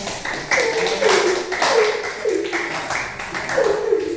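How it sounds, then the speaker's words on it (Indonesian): A class in a school lesson claps for a group, bursts of close hand claps arriving in a loose rhythm while a voice talks over them. "berikan tepuk tangan buat kelompok kita"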